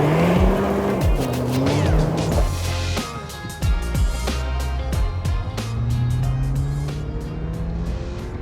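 A sixth-generation Toyota 4Runner with the iForce Max powertrain, rated at 326 horsepower and 465 lb-ft of torque, revs hard as it accelerates. The engine note repeatedly rises and falls in pitch, loud and close, with no talking.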